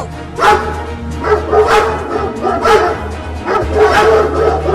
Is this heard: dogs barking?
yes